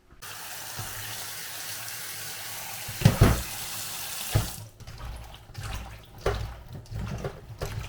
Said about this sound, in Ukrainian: ми їх промиємо під холодною водою і відіжмемо добре